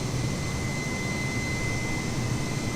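A Virgin Australia jet airliner on its takeoff roll from Launceston, a steady, loud, broadband engine roar with a thin whine on top, constant and unbroken with no voices.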